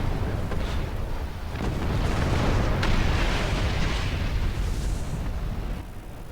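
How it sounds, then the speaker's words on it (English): A starship blows apart in a Star Trek space game, a loud sustained roar of explosion and rumbling debris that swells through the middle and eases off near the end, with no voices. "We got her just before the ship exploded"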